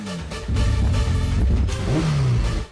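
A newly bought motorcycle, paid for with four lakh rupees in cash, revs loudly nearby, its engine note climbing and dropping in a few quick surges before cutting off, with no talking over it.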